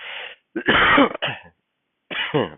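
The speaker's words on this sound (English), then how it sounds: "I wasn't coughing an hour ago." Someone clears their throat and coughs in a few harsh, close bursts separated by brief silences.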